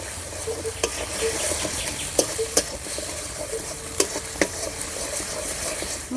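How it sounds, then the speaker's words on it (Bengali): Spice paste with salt and turmeric fries in oil for a traditional Bengali pointed gourd dish, with a continuous soft sizzle and scattered clinks and scrapes as a utensil stirs the pan. "পরিমাণ মতো লবণ আর পরিমাণ মতো হলুদ মশলার সঙ্গে ভালো করে কষিয়ে নেব"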